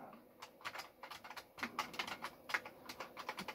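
Keys clatter on an Atari STE computer keyboard in a quick, irregular run of crisp clicks. The presses are fairly close and moderately faint, with no voices over them.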